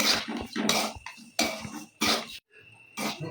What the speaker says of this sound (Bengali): সুজিটা হালকা একটু নাড়াচাড়া করে নিতে হবে কড়াইতে।